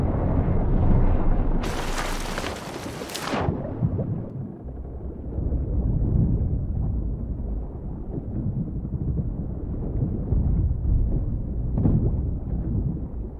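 A single loud cannon blast from a pirate ship battle in a video game, a sharp burst followed by a long rumbling boom and steady wind and sea noise.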